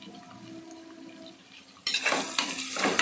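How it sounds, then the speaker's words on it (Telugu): Tempering spices fry in a pressure cooker for wheat rava upma: a quiet, low hum gives way at about two seconds to a sudden, loud, crackling sizzle that carries on steadily to the end. "పోపులన్నీ చక్కగా వేగిపోయాయి"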